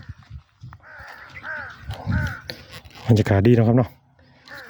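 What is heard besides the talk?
crows cawing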